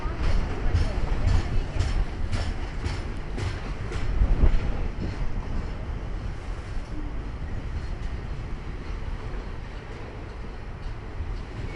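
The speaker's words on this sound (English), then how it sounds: "there goes the Maryvale paper train" A Maryvale paper freight train rolls past a station platform, its wagons passing loudly and close with rhythmic clickety-clack wheel beats that ease off as the train moves along.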